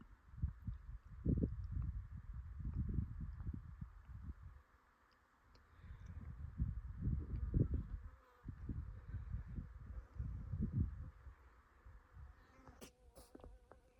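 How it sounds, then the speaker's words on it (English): Bees buzz around a backcountry desert campsite in soft, low drones that swell and fade in several bursts as they fly past, fairly faint, with no talking. "Can you see the bees?"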